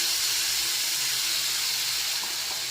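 Green chillies and a paneer-cashew paste hit hot oil in a kadai, giving a steady, close, unbroken hiss of sizzling with no voices.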